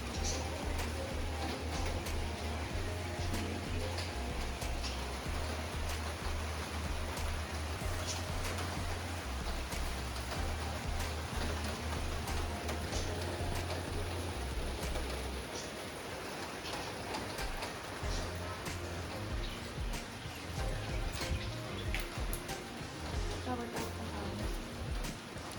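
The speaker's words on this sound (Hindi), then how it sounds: "और बारिश शुरू हो गई है।" Steady rain falls outdoors under an overcast sky, a dense, even hiss of drops that continues without break, with someone speaking over it.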